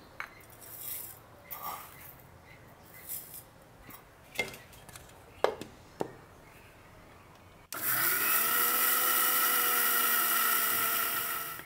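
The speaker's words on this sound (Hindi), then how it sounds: "आप देख पा रहे हैं ये शक्कर और सौंप अच्छे से पिस गए हैं" Sugar and fennel seeds in a mixer grinder: scattered clinks and rattles of handling at first, then the motor starts abruptly into a loud, steady high whine that continues to the end.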